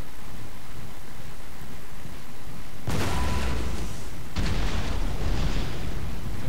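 Booming cannon fire from 12-pounder foot artillery in a Napoleonic battle, in a Napoleon: Total War game clash between Russia and France. Two heavy blasts land midway through, over a constant dense roar of battlefield ambience.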